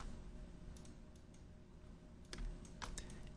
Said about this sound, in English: So I'm just going to type first and